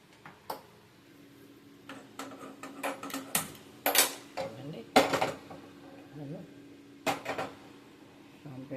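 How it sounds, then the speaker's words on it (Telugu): Metal clatter and knocks as a pan goes onto a home stove, with scattered clinks and thumps of kitchenware spread through the clip and a voice talking at times. "ఇప్పుడు ఇది పాన్ పెడతాను"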